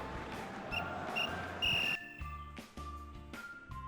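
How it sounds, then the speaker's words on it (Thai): A time-up whistle sounds in a Quizalize football quiz game, with a couple of short high toots and then one longer blast over steady background noise, followed by quieter electronic game tones. "มีเสียงนะครับลูกหวีดหมดเวลาเรียบร้อยแล้วนะครับ"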